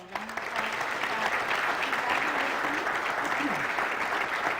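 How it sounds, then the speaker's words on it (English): Audience at a high school honor society induction ceremony breaking into steady, full applause that swells quickly and holds, with faint voices beneath the clapping. "So round of applause for that."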